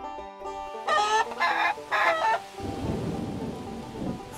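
Steady rain with low rumbling thunder on a rainy farm day in a children's animation, broken early by a few loud bright bursts that sound like animal calls before the downpour settles in.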